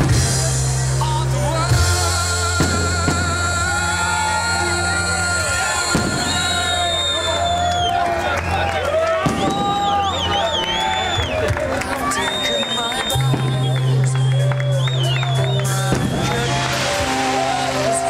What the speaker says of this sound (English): give some round of applause, because you all make it happen